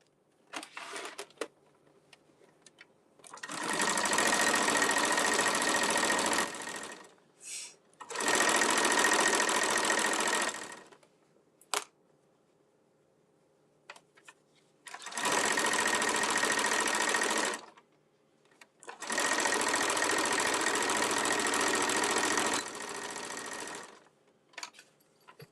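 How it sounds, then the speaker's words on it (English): A sewing machine stitches a bag in four long, steady runs of fast whirring, close by, with brief quiet pauses and small clicks and handling noises between them. "sewing this bag"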